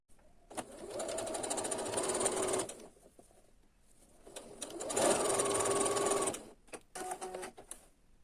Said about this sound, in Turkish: Ben dikiş makinesiyle dikeceğim burayı.